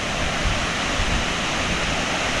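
A steady, dense roar of rushing, churning, foaming water at Hinulugang Taktak waterfall in Antipolo, Rizal, constant and loud with no breaks or other sounds.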